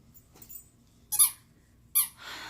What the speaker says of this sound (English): That squeaking is my dog and her ball that she just got yesterday.